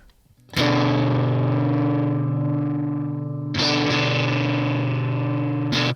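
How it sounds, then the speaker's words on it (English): Electric guitar through a TC Electronic Ampworx amp with gain maxed, heavily saturated, distorted tone ringing out in two long sustained chords, the second struck a few seconds after the first, loud and buzzing. "So we'll just turn that down, turn the gain all the way up."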